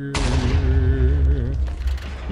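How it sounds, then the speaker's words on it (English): Minecraft explosion in a video game, a sudden loud booming blast that cuts in sharply and rumbles on with a low roar before fading over about two seconds. "Minecraft explosion."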